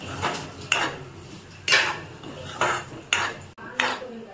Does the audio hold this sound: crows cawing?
no